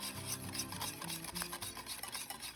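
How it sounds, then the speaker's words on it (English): Gluten-free batter being whisked in a bowl, a steady scraping, rubbing swirl of strokes close up with no talking. "then I'm just gonna use a whisk, and mix it up, just like pancake batter"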